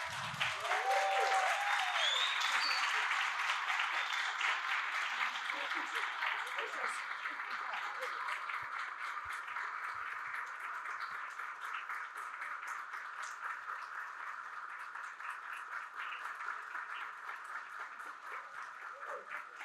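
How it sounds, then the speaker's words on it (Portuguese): Standing audience applauding at a presentation and approval of a manifesto letter for COP 30, a dense, sustained wash of clapping that swells loudly at first then settles and continues steadily, with faint voices murmuring underneath. "eu peço que todos se levantem e deem uma salva de palmas para a Valquíria."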